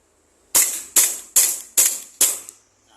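A WE M1911 airsoft BB pistol firing a full magazine: five sharp, loud, close cracks in a quick, even rhythm about half a second apart, then quiet.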